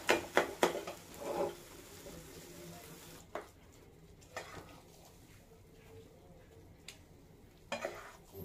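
Cooked atta halwa scraped and emptied from a pan into a dish, with a few sharp spoon-on-metal clatters at the start, a softer scrape, then quieter intermittent taps and knocks later on.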